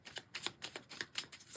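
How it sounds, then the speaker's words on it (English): Tarot cards being shuffled by hand, a quick run of soft, papery riffling taps and flicks in an irregular rhythm, faint and close, with no talking. "I'm going to shuffle one more time."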